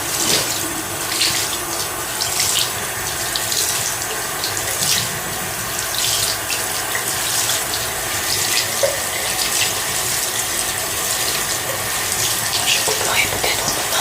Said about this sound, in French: je vais couler l'eau du robinet